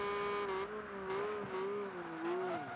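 A racing car in Project Gotham Racing 3, its engine holding a steady, wavering whine as it drives, with slight pitch shifts from throttle changes and a brief tire squeal, close and continuous, with no talking.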